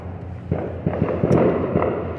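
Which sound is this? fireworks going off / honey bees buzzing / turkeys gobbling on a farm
fireworks going off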